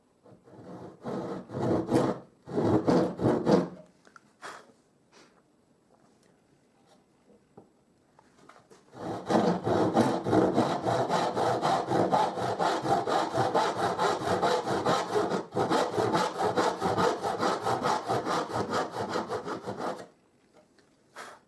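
Hand saw cutting wood for finger joints: two brief bursts of back-and-forth strokes, a long pause, then a sustained run of fast rhythmic rasping strokes lasting about ten seconds, close and clear with no talking.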